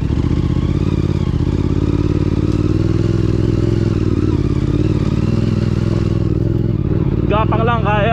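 A 450 MT dual-sport motorcycle engine drones loudly and steadily as the rider works the throttle gently on a slippery trail. Clatter and thumps from the rough ground mix in, and a voice talks near the end.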